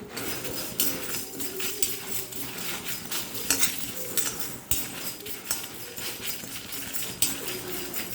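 Curry leaves with cumin and asafoetida frying over high flame in a pan for Chennai-style sambar, stirred with a metal spoon: repeated close clinks and scrapes in an uneven rhythm over a faint sizzle, no talking.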